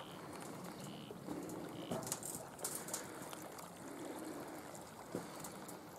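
Water of Rendezvous Creek runs steadily in a low broadband wash during a crossing on a hike, with a few brief splashes and clicks over it and no talk.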